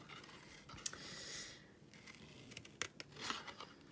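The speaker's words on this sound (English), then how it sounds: "I'm using my fine tip scissors to fussy cut" Fine tip scissors fussy cutting paper for a craft project: a few soft, close snips and faint paper scraping against quiet room noise, with no talk.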